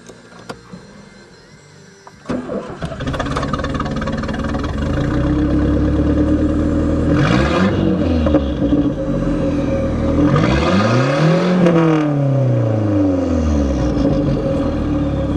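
A Shelby Aries wagon running with no muffler, catalytic converter or tailpipe, its exhaust exiting at the gas tank. It cranks and fires into a loud, raw idle, then revs up sharply twice and falls back each time, close by with no talking.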